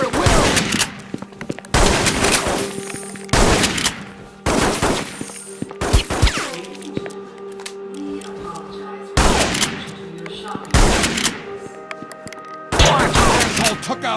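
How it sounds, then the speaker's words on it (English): Gunfire in the Reservoir Dogs video game: loud, dense bursts of shots and fusillades that repeat every second or two and continue through the whole stretch. "Fire at will."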